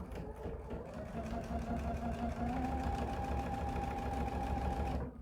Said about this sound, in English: You're just going to sew down the center.